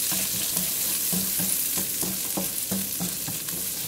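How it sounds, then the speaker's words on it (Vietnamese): Dried shrimp sizzle in a little oil in a pan, a steady close frying hiss with regular scraping knocks as a utensil stirs them. "Cho tôm khô vào xào khoảng chừng 2 phút cho săn."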